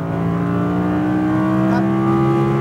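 An Audi R8 V10 RWD at full throttle on a race track, its engine note holding a loud, steady, rising drone heard from close by, with no speech.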